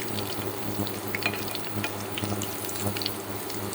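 Pumpkin flower fritters fry in a pan, a soft continuous sizzle with faint bubbling and occasional light crackles, fairly quiet and steady throughout.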